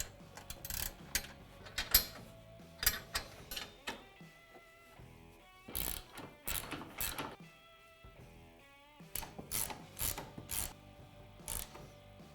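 A ratchet cranks down the mounting bolts of a Tusk UTV EXO front bumper on a Polaris RZR, clicking in repeated quick bursts with short gaps between, close and free of speech.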